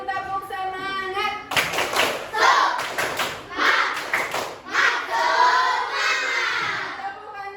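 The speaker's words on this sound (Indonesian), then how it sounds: "coba tepuk semangat dulu, tepuk semangat" A fifth-grade class in a classroom claps and shouts a rhythmic 'tepuk semangat' spirit chant. A short quiet lead-in gives way to loud, close bursts of group clapping mixed with children's chanting voices.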